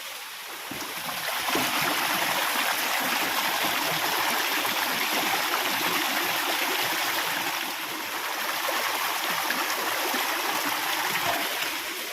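The Pradhanpat waterfall in Deogarh, India roars steadily and loudly, a continuous broadband rush of falling water close by.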